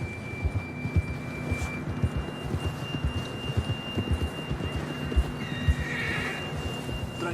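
A horse in Red Dead Redemption 2 whinnies over steady hoofbeats, with a low rhythmic thudding and game ambience throughout and a brief higher neigh near the end.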